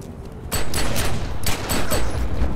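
Mines going off in The Secret World: a loud burst of several rapid, crackling blasts that starts abruptly and continues in rolling waves, close and dense, with no talking.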